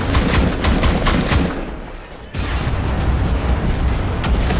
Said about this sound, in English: Throwing another explosion pack.